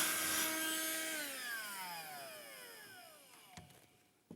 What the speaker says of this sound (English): take that off, do your vacuuming.